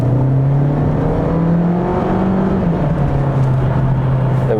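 Seat Leon MK4 ST estate fitted with a Ramair turbo hose accelerating under full throttle, a loud steady engine drone heard from inside the car as the pitch climbs and then shifts, with no talk.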